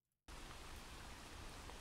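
Steady rain from a Kyster recording switches on abruptly after a brief quiet moment and continues as a dense, even hiss.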